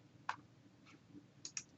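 Computer mouse buttons clicking while working in a spreadsheet: a sharp single click, a fainter one, then two quick clicks close together, near and quiet with no talk.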